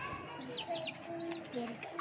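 Hens and other chickens cluck softly in a mixed poultry flock, several short calls overlapping at moderate distance, with a person talking under them.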